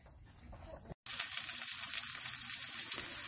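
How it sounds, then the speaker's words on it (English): Breakfast frying in a pan on a farm kitchen stove, a steady close sizzle with crackling spatter that cuts out for a moment and resumes louder and brighter, with no talking. "cooking up breakfast."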